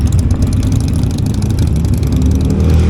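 Loud motorcycle engine on a Triumph during the Distinguished Gentlemen's Ride in Edinburgh, a steady low rumble with rising revs that fills the whole stretch, close and continuous with no talk over it.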